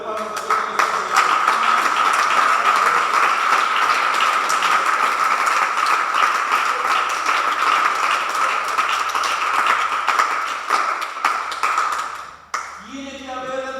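Sustained, dense applause from a church congregation fills the space for about twelve seconds at a steady loud level, then breaks off abruptly near the end.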